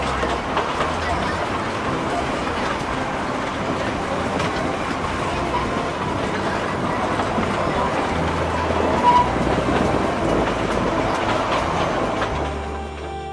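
A toy train running along its rails in Goa, a steady rumbling roll with faint rhythmic clatter heard from on board, continuous and fairly loud.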